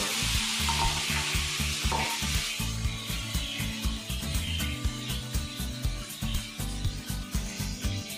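Eel fish sizzles and fries in a pan for an Assamese eel curry, a steady close hiss under rhythmic scraping and stirring, no talking.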